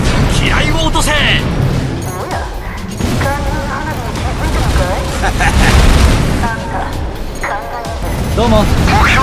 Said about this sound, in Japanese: 目標が爆発しました